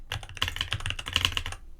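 Close, rapid clicking of a computer keyboard during coding, quick uneven bursts of keystrokes with no talking.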